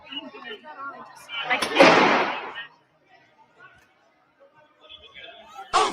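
A single sharp, loud gunshot rings out inside the US Capitol, ringing briefly over a background of shouting and commotion before things drop to near silence.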